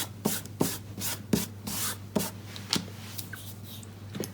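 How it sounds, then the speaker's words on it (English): An embossing buddy is rubbed over thin vellum, giving soft, close brushing strokes in a quick uneven rhythm, each pass a short faint swish over a quiet steady hum. "So let's run the embossing buddy over."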